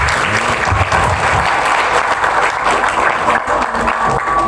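A gathering of students and listeners at an Islamic boarding-school talk bursts into loud, close applause that stays dense and continuous throughout.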